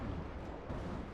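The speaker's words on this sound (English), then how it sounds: "there are fireworks going off" Fireworks bursting in Guild Wars 2, a dense continuous rumble of booms and crackles close by, steady and loud for the whole moment.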